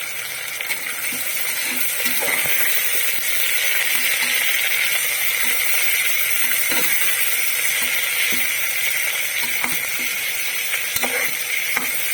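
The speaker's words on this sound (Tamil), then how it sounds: "ஆனியன் நல்லா கொஞ்சம் ப்ரௌன் கலர் வர வரைக்கும் வதக்கி வதக்கிக்கலாம்" Onions sauté in a pan with cloves, cardamom and star anise for egg macaroni biryani, giving a steady, loud sizzle and hiss throughout, with occasional scrape and clink of a stirring spoon.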